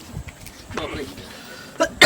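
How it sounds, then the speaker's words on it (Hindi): A man gives a short cough and throat-clearing burst at close range, a brief rough rasp followed by a couple of quieter catches. "साला खांसी भी होने लगा"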